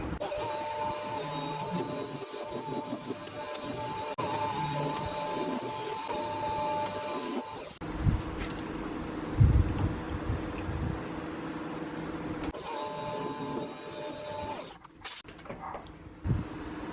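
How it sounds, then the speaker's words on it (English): A metal lathe cutting an undercut in a machining workshop, a steady whining motor hum with a high tonal drone, a quieter stretch with a few knocks midway, then the whine returning. "now I need to machine an undercut on there to fit this on a millimetre off the diameter plus a little bit"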